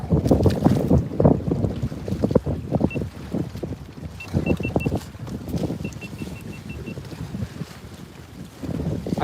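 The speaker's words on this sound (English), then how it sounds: "It's getting windy, but it's safe for now" Gusty wind buffets the microphone out on Lake Travis at sunset from a fishing boat, loud rumbling bursts rising and falling, with water lapping against the hull and faint beeps from onboard electronics.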